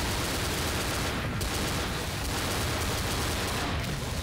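Dense dual-pistol gunfire in the Left 4 Dead zombie shooter, a loud continuous barrage of rapid shots with no pauses.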